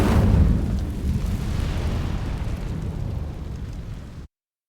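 Fire spell cast in the Hogwarts Legacy video game: a loud, deep whooshing burst at the start that fades into a long rumbling roar of flames and then cuts off abruptly.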